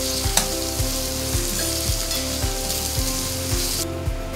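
Onion and capsicum fry in a pan for pav bhaji, a loud steady sizzle with regular rhythmic stirring pulses about every half second, close up and without speech.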